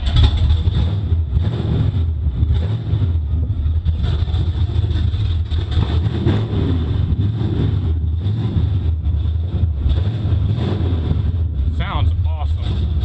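A car engine, pumped and cranked, idles steadily at a loud, close, even rumble, with a slight hum running through it from start to finish.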